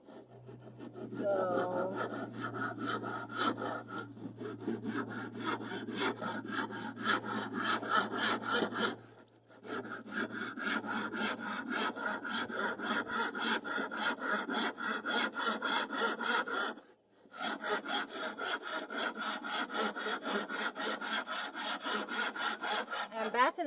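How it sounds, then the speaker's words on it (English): A hand saw cuts through a wooden batten with fast, steady rasping strokes at close range, pausing twice briefly before resuming, while a voice says a word early on. "batten is probably the easiest thing to cut"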